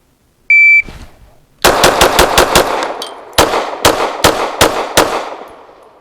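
Gunfire from a Bolt Armory Axe C Hatchet with a newer grip setup on a shooting range, after a brief electronic beep: a quick burst of five loud shots, a pause, then five more evenly spaced sharp reports, close and alone.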